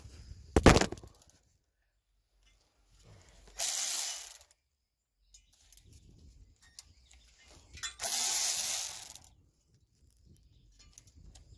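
A ratchet fitted with a Torx 25 socket removes bolts from a Powerstroke 6.0 truck hub: a sharp clack, then two separate bursts of rapid clicking ratcheting, with quiet pauses between.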